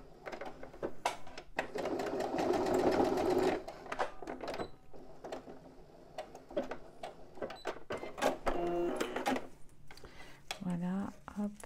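Sewing machine topstitching a fabric bum bag in one short close burst, followed by scattered clicks and handling taps of fabric and parts, with brief voice sounds near the end.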